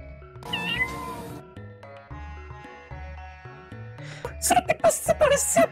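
Cartoonish cat meowing from the Chrono Trigger video game, several clear meows over game music, with a louder burst of cries toward the end.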